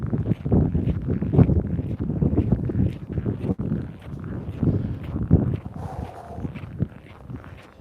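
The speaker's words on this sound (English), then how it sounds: "Wind just picked up." Gusty wind buffets the microphone outdoors in a steady, loud rumble, with scattered thumps and rustles running through the whole stretch.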